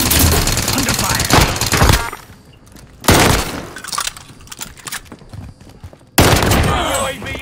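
Video game gunfire comes in loud, dense bursts of rapid shots and crashing impacts, in three separate volleys with quieter scattered pops between them.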